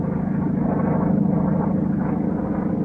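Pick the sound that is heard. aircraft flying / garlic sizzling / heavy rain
aircraft flying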